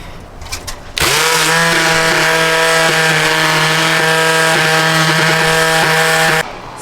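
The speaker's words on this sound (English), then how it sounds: "I've just pulled the sandpaper up higher, because I'm basically going into the corners like so" A power sander fitted with sandpaper working a wooden chest of drawers kicks in after a second and holds a loud, steady, close-up motor whine for about five seconds before cutting off.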